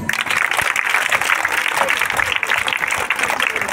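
Sustained, steady clapping from a crowd at a girls' school function in Gooty, loud and dense throughout, with faint voices mixed underneath.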